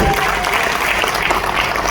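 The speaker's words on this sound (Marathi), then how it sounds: "विनायक हेगाना या माणसासाठी टाळ्या वाजवायला" Dense, steady applause from a large audience at a Marathi public event honouring a social worker, loud and continuous for the full two seconds with no voices standing out.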